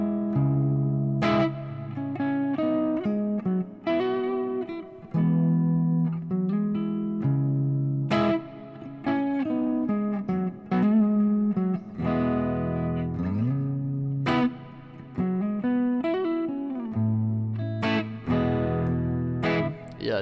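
Electric guitar through a Fractal Audio FM9 preset with a slightly breaking-up, edge-of-breakup tone, played continuously as chords and melodic runs with a full, lightly driven sustain, loud and close with no talking.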